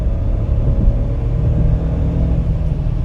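A 2025 Ford F-150 pickup runs at full throttle, giving a steady, fairly quiet low engine rumble and road drone heard from inside the cab, with no talking.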